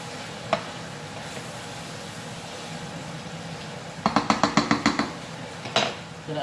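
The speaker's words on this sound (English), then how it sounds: "Give it a stir." Browned mince and vegetables are stirred in a pan under a low sizzle, with a quick burst of rhythmic scraping strokes midway and a final clatter, close and fairly loud.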